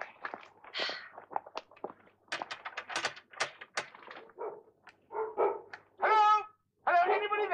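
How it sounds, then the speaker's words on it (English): A pair of house dogs bark in a row of loud, close yelps and barks, the sharpest, most tonal ones coming near the end. "They're jolly good house dogs, aren't they?"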